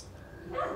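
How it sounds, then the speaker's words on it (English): Dogs bark outdoors near a gate, one short yip rising at the end of a very brief moment. "there's dogs outside"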